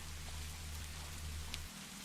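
Soft, steady rain patters as a continuous faint hiss with a low hum underneath and no voices.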